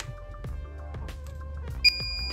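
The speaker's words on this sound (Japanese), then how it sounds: "冷水はビープ音が鳴るまでボタンを2秒間押し続ける。" An Outin Nano portable espresso maker gives a short electronic beep after its button is held, a single brief tone over a low steady hum.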